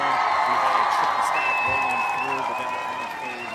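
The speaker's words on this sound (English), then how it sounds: "You hear the crowd are cheering for them right now." A crowd at a Call of Duty esports watch party, OpTic versus FaZe, cheers and applauds continuously while a commentator talks loudly over the noise.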